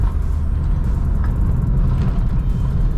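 Engine of a remapped MG ZR 1.4 hot hatch while driving, heard from inside the car. A loud, steady low rumble with road noise runs throughout.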